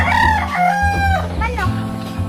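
A rooster crows with a long, rising-and-falling harmonic call, close and loud, followed by a second shorter crow; low background noise underneath.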